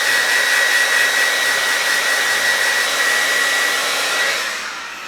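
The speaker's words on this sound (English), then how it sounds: "I'm gonna go into my blow dryer and just" A hair blow dryer runs as a steady, loud, close airy whoosh that holds even throughout and then tapers off at the end, with no talking.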